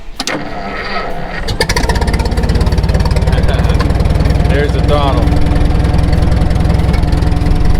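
A 70-year-old International T9 crawler bulldozer engine cranks over and catches, then settles into a steady, loud, close idle with a rapid even thump, while someone talks over it.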